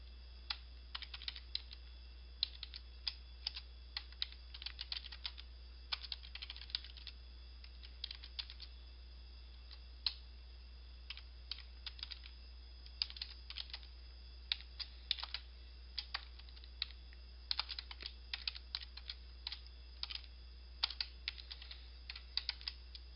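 A Windows batch file is typed on a computer keyboard as a steady stream of quiet, close key clicks over a low hum, with brief gaps between bursts.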